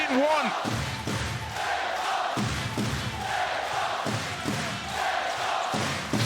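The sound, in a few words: basketball arena crowd cheering with bass drums, stomping, clapping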